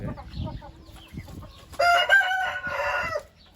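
An Asil rooster crows loudly and close by in the middle of the stretch, with hens clucking softly around it before and after.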